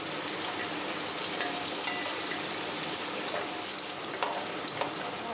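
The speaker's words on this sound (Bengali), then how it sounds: "তেলে আমি কয়েক টুকরো পনির ভেজে নেব।" Paneer pieces frying in hot oil, a steady loud crackling sizzle with scattered pops throughout, close up and uninterrupted by any voice.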